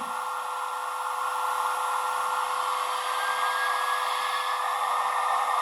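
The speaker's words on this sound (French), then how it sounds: "chauffage diesel" A diesel heater runs with a steady, even whirring roar and a constant tonal hum. It sounds close and unchanging, with no voices.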